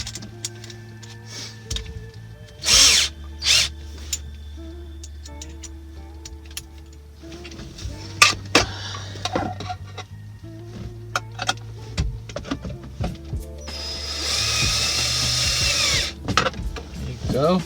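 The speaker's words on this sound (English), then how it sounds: "Gonna need to use an extension on my drill bit here." Power drill fitted with a bit extension whirs in short bursts while working on a Honda Acty interior, among clicks and handling noises, and ends in a longer sustained run.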